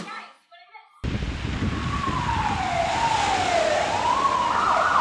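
A computer-generated ambulance siren from the Birdemic 2 movie blares loud and steady, its wailing tone sweeping upward over road noise. Brief speech comes just before the siren.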